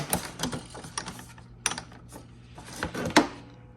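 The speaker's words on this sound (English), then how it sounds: "It does take a little more to push the lever down to lock it." Quiet plastic and metal clicks and clunks come from a Kreg pocket hole jig as its clamp lever is worked down to lock a board, a handful of separate knocks ending in a sharper snap, close by and without speech.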